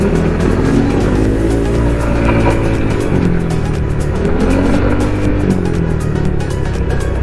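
Motorbike fitted with a JVT titanium CVT set and a kalkal v2 muffler running on a highway, giving a loud, steady engine drone with rising and falling pitch sweeps as it accelerates, with continuous wind and road noise throughout.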